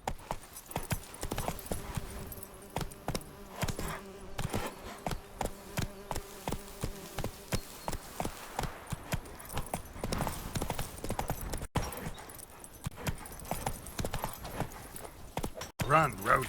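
Horse hooves gallop in The Witcher 3: Wild Hunt, a steady rhythmic clip-clop running under game ambience and buzzing insects, with spoken lines over it.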